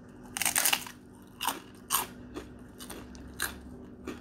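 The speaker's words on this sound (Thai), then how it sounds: "แค่หมูนี่กรอบมาก" Crispy pork being bitten and crunched while eating a Thai salmon som tam with khanom chin, giving a loud opening burst of crunches followed by several separate, sharp crunchy bites up close with no talking.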